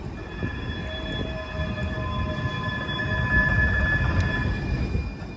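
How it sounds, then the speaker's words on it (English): A Siemens S200 (LRV4) light rail vehicle of San Francisco's Muni Metro rolls along, a low rumbling run with steady high whining tones from its drive, growing slightly louder toward the end; no voices. "This is a Siemens S200, known here as the LRV4, part of a fleet which first entered service in 2017."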